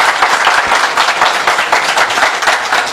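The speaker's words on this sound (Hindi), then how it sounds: "एकदम जोरदार तालियां।" Audience applause at an indoor product seminar for a biomagnetic mattress pad, steady dense clapping from many hands filling the whole stretch at close range, with no speech over it.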